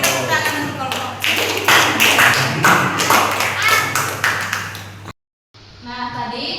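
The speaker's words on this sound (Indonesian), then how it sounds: "Beri tepuk tangan untuk kelompok C." Students in a classroom clap for a presenting group, a run of close, brisk hand claps mixed with voices that cuts off abruptly, then faint claps and chatter resume.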